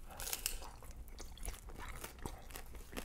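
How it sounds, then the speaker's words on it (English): Someone bites and chews the crunchy, cheesy baked edge of a hot pan pizza, giving faint close-up crunches in an uneven rhythm with no talking. "That edge cheese crunch."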